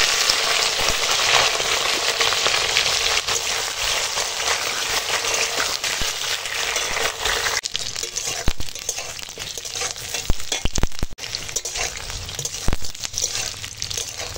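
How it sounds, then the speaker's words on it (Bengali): Pointed gourd pieces frying in hot oil, a dense continuous crackling sizzle that holds steady and close, broken later by scraping and stirring clatter against the pan. "চলো পটলগুলোকে এখন ভেজে নেব।"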